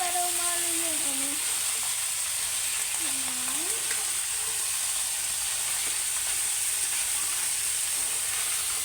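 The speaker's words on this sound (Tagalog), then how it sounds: "kailangan maluto muna guys yung crab. Halo-halo lang para umalo yung butter sa crab." Crab cooks in butter in a hot pan, giving a steady, dense sizzle that runs unbroken throughout. A faint voice-like sound appears briefly near the start.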